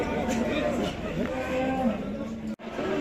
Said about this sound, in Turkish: bunlar alınmış inekler